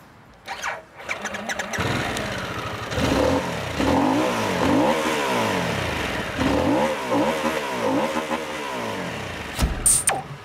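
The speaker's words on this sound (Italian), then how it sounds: "allo scarico a dir poco caratteristico che con i suoi scoppietti in rilascio fa venire voglia di tenere aperta la manetta" A Harley-Davidson Sportster S 1250 V-twin starts up and revs loudly close by, rising and falling through several throttle sweeps, with crackling exhaust pops on deceleration and a final burst of clatter.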